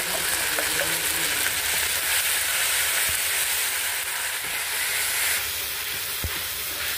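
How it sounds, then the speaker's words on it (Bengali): Spices sizzle in hot oil in a pan: whole cumin, dried red chillies, ginger-cumin paste and green chilli paste crackle in a loud, steady hiss, with a few clinks of a utensil and no talking. "এবার মশলাটা ভাজা ভাজা হচ্ছে"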